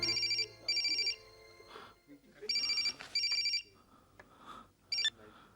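A telephone rings in repeated double bursts of bright electronic trilling, with a voice speaking in the pauses between rings.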